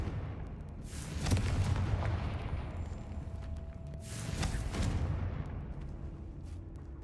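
Two heavy booming blasts from the Confringo blasting spell in Hogwarts Legacy, each a loud, close burst with a rumbling tail, separated by a few seconds of lower roaring background.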